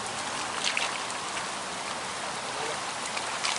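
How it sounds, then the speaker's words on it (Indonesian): Heavy rain pours steadily at an outdoor fishing spot for wild tilapia, a dense, even hiss of drops hitting surfaces throughout, with no voices. "Hujan dah turun deras banget mas bro."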